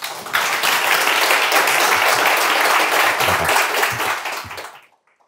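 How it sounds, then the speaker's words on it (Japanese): A crowd applauds steadily for about five seconds at an insurance tech startup meetup presentation, a dense wash of clapping that tapers off and stops. "では拍手でお迎えください。"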